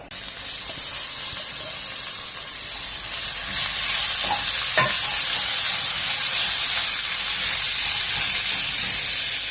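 Chopped cluster beans (guar) are tipped into a pan over ginger paste and stirred, giving a steady broadband sizzle with a few brief scrapes and clatters partway through, close and loud.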